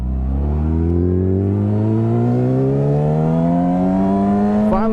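A brand new motorcycle's engine revs up steadily, its loud, close, rising drone climbing in pitch as the bike gets under way, with no talk over it.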